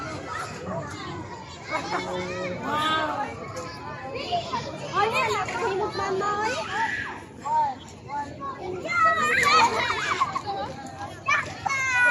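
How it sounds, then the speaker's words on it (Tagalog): Children playing at the playground of SM Seaside City Cebu shopping mall in Cebu City: excited kids' voices, shouts and squeals overlap continuously over a busy indoor babble. "At ito ang kanilang playground dito. Hindi lang sa mga bata, pati sa matatanda."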